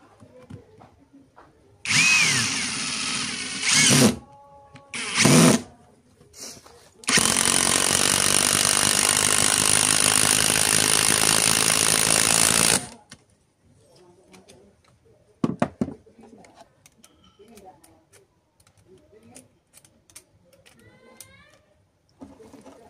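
A Bultrax 18V cordless impact driver runs in loud bursts, first several short stuttering pulls of the trigger, then one sustained whirring run of about six seconds, with quieter workshop handling noises afterward.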